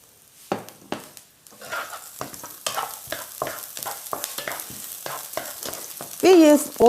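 Garlic hits a little oil in an iron wok and fries with a close, crackling sizzle broken by repeated scrapes and stirring knocks, then a brief louder burst at the end.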